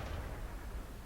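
A tank cannon shot in the online tank game World of Tanks, played on the Tundra map: a single dense, booming blast with a long rumbling tail, full and loud throughout the short moment, with no talk.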